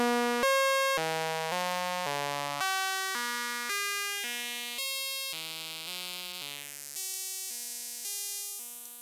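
A thin, buzzy modular synthesizer in VCV Rack, through a high-pass filter, plays a sequence of sustained notes one after another, bright and trebly with little low end, steady and fairly quiet.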